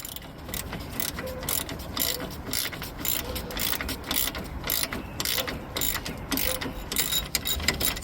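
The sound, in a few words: ratchet unscrewing 10mm bolts on a Toyota Corolla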